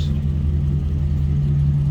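A 1968 Chevrolet C10 regular cab pickup with a 5.3 liter V8 and mild exhaust idles steadily nearby, a deep, even rumble throughout with no revving.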